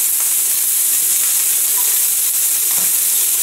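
Chicken legs sautéing in a hot pan give off a loud, steady sizzle and hiss that holds throughout with no break, close up and alone without talk.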